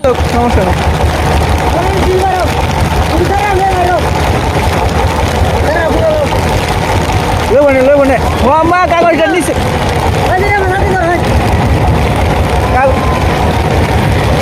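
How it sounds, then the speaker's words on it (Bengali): A motorized trawler boat runs through heavy rain toward a ferry landing, its steady low engine drone continuous beneath close voices talking throughout. "এখন আমরা গুদারাঘাটের দিকে যাচ্ছে ট্রলার এই গুদারাঘাটে নামিয়ে দেবে"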